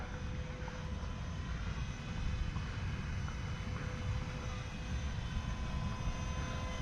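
A fast airplane engine drones steadily in flight, a loud continuous roar heard from inside the aircraft, with no talk.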